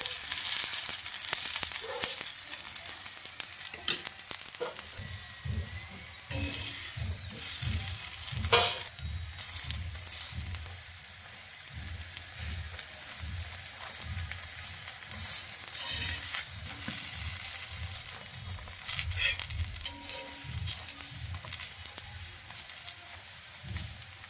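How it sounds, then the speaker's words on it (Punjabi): Aloo methi paratha frying in desi ghee on a hot pan, a steady soft sizzle with faint intermittent scraping and shifting as the bread is moved, continuous and fairly quiet throughout. "ਬਹੁਤ ਹੀ ਟੇਸਟੀ ਪਰੌਂਠੇ ਬਣਦੇ ਆ ਦੇਸੀ ਘਿਓ ਨਾਲ ਇਧਰ ਵੀ ਆਪਾਂ ਥੋੜਾ ਥੋੜਾ ਜਿਹਾ ਹਿਲਾ ਲਾਂਗੇ"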